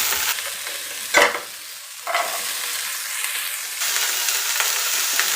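Grated coconut frying in oil in a pan while being stirred, a steady close sizzle broken by a few scraping strokes of the spoon, louder in the final stretch, with no voices.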